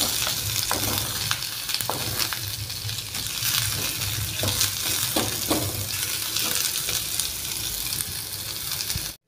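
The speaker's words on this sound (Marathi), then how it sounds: "हा कांदा घालूयात। कांद्याला ट्रान्सपरंट होऊ देऊयात।" Onion and green chillies fry in a pan for tomato garlic pulao, a dense steady sizzle close up with repeated stirring scrapes and taps throughout, no talk.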